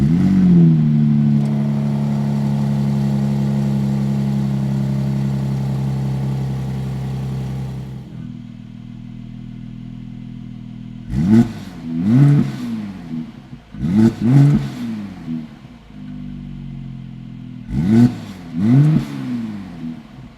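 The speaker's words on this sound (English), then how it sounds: "With 367 horsepower from its 3-litre V6 twin-turbo petrol engine, it really does pack a punch." A Mercedes-AMG SLC 43 Final Edition with a 367-horsepower 3-litre V6 twin-turbo petrol engine holds a loud sustained rev, drops back to idle, then gives three sharp blips of the throttle, heard close and clear with no talk.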